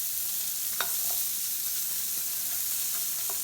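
Onions frying in a pan over medium-high heat for a patty melt, a steady soft sizzle with a few faint spoon taps and scrapes, close but fairly quiet, without speech.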